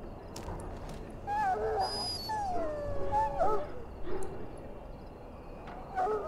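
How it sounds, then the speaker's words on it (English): A sick dog in the video game Dragon Age: Origins whines and howls in rising and falling cries that repeat over a steady low background ambience. "Put the muzzle on the dog."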